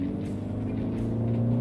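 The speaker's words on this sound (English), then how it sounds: "you do get a fair amount of a nice induction roar and that engine sound" Steady low engine drone and induction roar from a Mini Countryman heard inside the cabin, a continuous hum with faint tonal harmonics and no talking.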